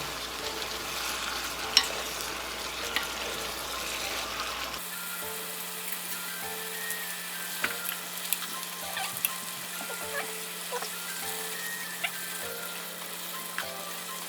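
Spicy webfoot octopus stir-fried in a pan, a steady close sizzle with stirring and scraping running throughout, dotted with small sharp clicks of the utensil against the pan.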